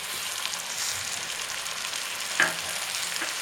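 Tomatoes go into chicken roast masala that is frying with onion, ginger, garlic and spices, giving a steady, fairly quiet hiss and crackle with one brief louder pop.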